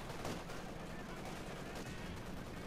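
Grenades exploding in the Company of Heroes 2 real-time strategy game, heard as a dense, continuous wash of blasts and crackling gunfire with no break over a few seconds, loud and busy throughout.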